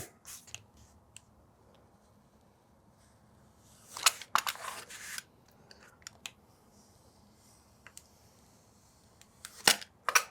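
Scissors snip through craft foam pieces in short, crisp bursts, with a cluster of rapid cuts midway and another near the end, separated by quiet stretches with faint handling noises.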